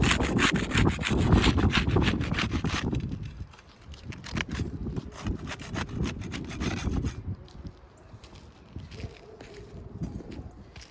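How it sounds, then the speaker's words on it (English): A putty knife scrapes and pries at sealed asphalt roof shingles, making steady rough scraping and rubbing that is loud at first, then softer and more broken, close by with no talk. "We'll use a putty knife to unseal the top shingle."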